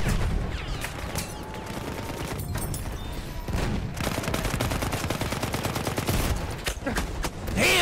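Battlefield 1 gunfire rattles almost nonstop in rapid automatic bursts, loud and close, with scattered booms layered underneath.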